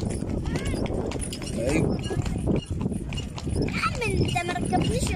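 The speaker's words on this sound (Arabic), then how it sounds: "هي لون الحصان حلو." Horse hooves clip-clop on the Giza plateau near the pyramids, a loose, close rhythm of hoofbeats mixed into a busy outdoor scene with people talking loudly over and around it.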